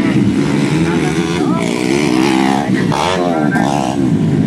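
Grasstrack race motorcycles at a Bililas, Riau meeting buzz and rev continuously, loud and close, under steady excited commentary.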